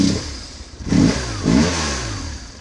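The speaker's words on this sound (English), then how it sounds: "Bike starts right up." A BMW motorcycle engine starting up, with two short bursts of cranking and catching before it settles into a steady running note, close and fairly loud.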